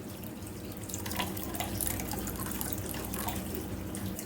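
Water being poured into a container holding two-week-old betta fry during a water change, a steady, close splashing flow running through the whole stretch with no talk.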